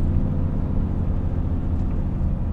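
Inside the cab of a Volvo road train truck on the road, a steady, loud low engine drone and rumble runs throughout with no break.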